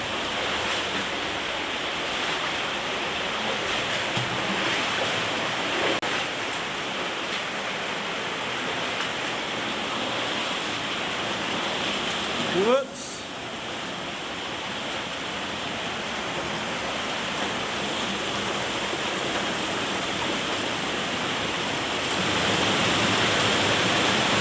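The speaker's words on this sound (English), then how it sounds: "following the stream till it gets louder" A cave stream flows steadily throughout, a constant broadband wash with a brief knock midway and a short spoken exclamation.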